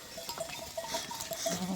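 Sheep bleating in an upland pasture, a few short, thin calls against soft outdoor background noise, fairly faint and somewhat distant, with no speech.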